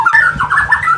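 Caged cucak rawa songbird delivering a loud, close run of fluid whistled notes that wobble up and down in pitch over about a second.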